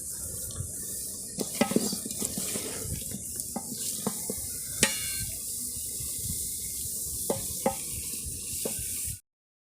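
Potato and egg curry stirred with garam masala in a pot, a steady frying hiss under intermittent spoon scrapes and taps against the pan, fairly faint and close, cutting off abruptly at the end.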